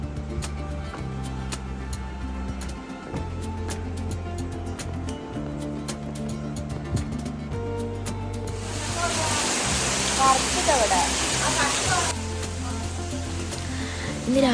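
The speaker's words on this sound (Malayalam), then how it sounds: "ഇപ്പോൾ പിന്നെ ഇതാ കുട്ടികൾക്ക് സ്കൂളിൽ വരുന്ന ടൈമായപ്പോഴത്തേനും പിന്നെ നല്ലോണം മഴയൊക്കെ പെയ്യുന്നുണ്ട്" Heavy rain pours steadily at home in the afternoon, a dense hiss that swells louder partway through, with a low hum running underneath throughout.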